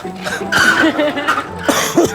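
A few short coughs mixed with chuckling and voices nearby, close and fairly loud.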